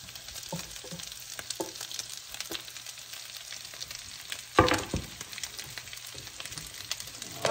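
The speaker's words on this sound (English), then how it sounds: "I'm making a well in my wok, and then I'm going to saute the onion" Onion sautéing in a little oil in a wok for Indonesian stir-fried noodles, a steady soft sizzle with scattered stirring clatters and one sharper scrape midway, heard close with no talking.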